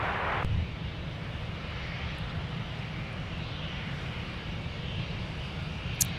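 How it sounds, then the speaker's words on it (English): SkyWest regional jets taxiing past on a taxiway at Minneapolis–Saint Paul airport, a steady broad engine roar sustained throughout, with a brief click near the start and another near the end. "we've had a trifecta of departures going by us on Whiskey"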